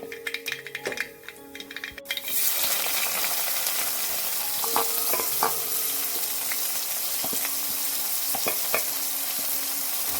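Onion with fennel seeds frying in a pan for tomato rice: after a quiet start with faint clinks, a loud continuous sizzle kicks in and holds, with scraping stir strokes and occasional utensil taps.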